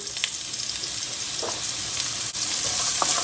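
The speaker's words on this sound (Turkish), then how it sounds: "Aynı tenceremizin içine çok az bir yağ daha ilave ediyoruz. Havuçları atıyoruz." Carrots frying in a little oil inside a cooking pot give a steady, close sizzle with a few brief crackles and stirring clicks, with no talking.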